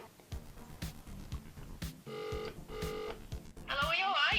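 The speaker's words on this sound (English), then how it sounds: "Oh, I just got a text message from my mum." A phone's text message alert goes off, a short run of repeated electronic tones followed by a brighter trilling burst, with a person speaking around it.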